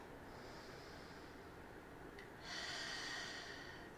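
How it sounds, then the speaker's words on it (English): During a yoga session, a slow, deep belly breath is drawn in and then released as a louder, breathy exhale, close and quiet with no talking. "Let's focus on a few deep belly breaths."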